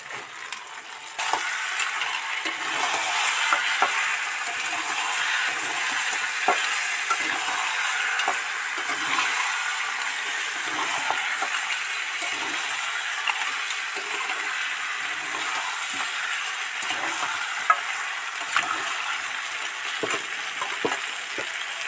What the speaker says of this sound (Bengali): কত তেল বুজবুজ বুজবুজ করছে